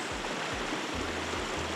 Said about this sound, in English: the water flows over the top of what was the beaver dam, and it's creating the shallower, faster moving water here